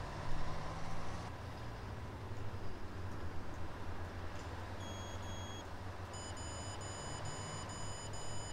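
A Volvo coach bus in the OMSI 2 driving simulator hums with a steady low engine drone, joined partway by thin electronic beeps and a tonal chime sequence toward the end.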